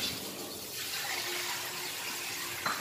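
Water for cooking Samyang noodles runs in a steady, close stream from start to finish, with a small clunk near the end and no talking.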